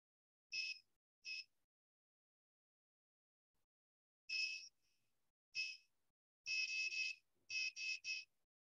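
An electronic buzzer wired to an HC-SR04 ultrasonic distance sensor beeps when an object comes within 8 cm, giving short clean high-pitched tones, single at first and then in quicker clusters, clear against silence.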